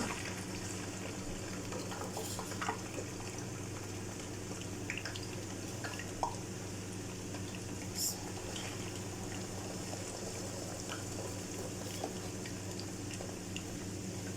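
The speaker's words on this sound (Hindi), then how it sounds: "अब इसको हम जो है हाई फ्लेम पे डीप फ्राई करेंगे" Masala fries deep frying in hot oil over a high flame, a faint, steady bubbling hiss with occasional small pops, continuous and even throughout.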